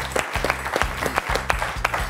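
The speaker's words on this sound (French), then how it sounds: "Et on peut applaudir Fabienne pour ce joli score." Studio audience applauding a contestant on the French quiz show Questions pour un champion, a sustained burst of clapping with sharp accents over a steady low musical tone.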